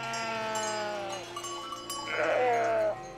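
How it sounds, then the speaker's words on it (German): Flock of sheep bleating while being herded through the Lucerne midlands in winter, several overlapping wavering bleats close by, one louder cry rising toward the end, with no talk. "12 Winter in Folge ist Michael nun schon mit seinen Schafen im luzernischen Mittelland unterwegs"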